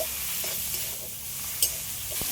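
Salted water lily stems fry in a pan and get stirred, giving a steady close sizzle with a few soft scrapes and one sharp clink near the end.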